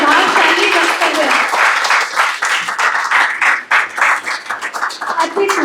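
An audience at a Kirori Mal College event breaks into loud, sustained applause, dense clapping filling the hall while a voice speaks over it toward the end as the clapping thins.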